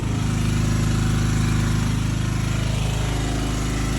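A 4.4 portable generator, used to feed a Deye inverter, runs steadily at close range with a loud, even engine drone and buzzing hum throughout, with no speech.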